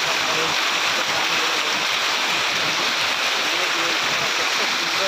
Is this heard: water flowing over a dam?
yes